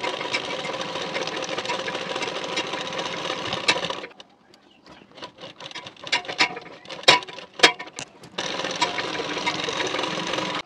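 A sewing machine stitches along the edge of a blouse waistband, a rapid, steady mechanical whir that stops midway for a few taps and clicks of handling before running again.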